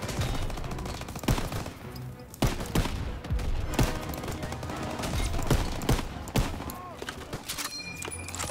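Gunfire from a World War II battle in Call of Duty WWII, with dense overlapping rifle and machine-gun shots, sharp individual cracks punching through a continuous roar of combat over about eight seconds.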